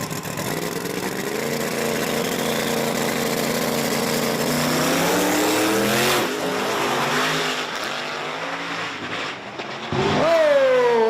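A Silverback S10 truck and a rival launch down a drag strip in a small-tire race, engines screaming loud and near, revs climbing through gears before fading, then another engine whines high close by.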